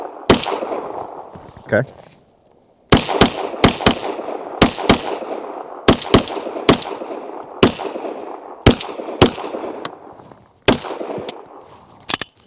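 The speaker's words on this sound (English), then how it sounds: "it's not suppressed, so it's gonna be loud." Unsuppressed SAR9 SOCOM pistol firing outdoors, about fifteen loud, sharp reports in irregular groups with echoing decay between them, and brief speech at the start.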